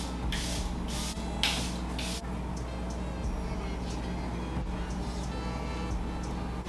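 Charlotte Tilbury airbrush setting spray hisses in several short, close bursts near the start, then a quieter steady background hum follows.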